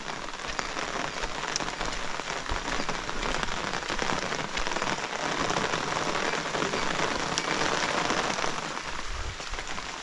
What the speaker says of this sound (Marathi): ओके पाऊस पडतो आहे पण आपल्या घराजवळ आहे ना